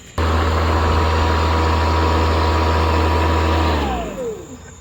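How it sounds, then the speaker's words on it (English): A Toro 60V Super Recycler battery-powered lawn mower is engaged and runs with a steady, loud motor hum and blade whir close by, then spins down, the pitch gliding lower at the end. "In order for the lights to come on here, we have to engage the mower."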